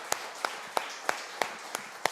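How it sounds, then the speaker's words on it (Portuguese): A church congregation claps in unison to a steady beat, with sharp, evenly spaced claps about three per second over a soft background of crowd noise. "Você pode mais uma vez aplaudir ao Senhor, queridos?"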